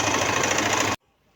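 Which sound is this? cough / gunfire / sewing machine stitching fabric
sewing machine stitching fabric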